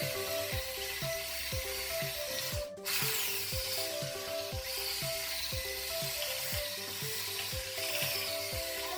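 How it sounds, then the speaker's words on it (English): Sugar and egg yolk being mixed in a bowl for tiramisù, a steady run of rhythmic stirring strokes repeating close by over a constant hiss, with no talking. "Now we put the sugar, the egg yolk, and then we mix it."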